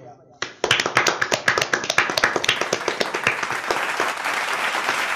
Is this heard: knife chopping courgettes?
no